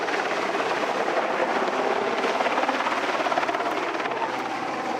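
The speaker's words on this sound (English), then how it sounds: "it's touch and go whether the chopper can land" A helicopter approaches to land at an icy outdoor site during the Strathpuffer 24 event, its rotor noise a loud, steady, close roar that holds throughout.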